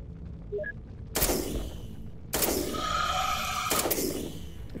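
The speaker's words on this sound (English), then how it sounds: "Is the turret gonna fire again?" Turret gunfire in the video game UFO2: Extraterrestrials, with three loud, sharp bursts at roughly one-second intervals. Each burst cuts in abruptly and trails into a sustained roar, and a few faint electronic beeps come just before the first.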